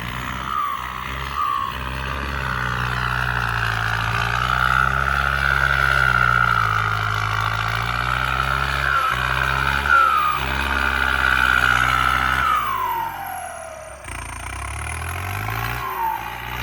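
A tuned turbocharged Isuzu MU-7 engine revs loudly and steadily, its droning pitch swelling and easing over sustained throttle before dropping off near the end and climbing again.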